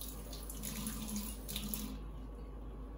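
A tap runs with warm water for wetting and scrubbing a plastic part from an HO scale steam engine model kit, a close, steady splashing stream that eases off near the end.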